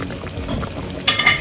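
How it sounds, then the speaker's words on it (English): About two tablespoons of tamarind juice are poured into a simmering massaman chicken curry, giving a brief close-up liquid splash with a quick burst at the end. "So we put the tamarind juice around 2 tablespoons."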